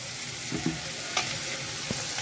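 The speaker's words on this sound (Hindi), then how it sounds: "अब ये प्याज जो है ये अच्छे से फ्राई हो गए हैं" Onions frying in a pan on a gas stove while being stirred, a continuous close sizzle broken by a few brief scraping stir sounds.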